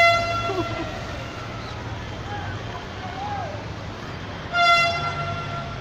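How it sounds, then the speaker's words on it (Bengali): A Kolkata East-West metro train on a test run passes with a steady rumble, sounding a sustained tonal horn at the start and again near the end, with voices heard over it. "এই তো দেখো ছাদে মেট্রো আসছে।"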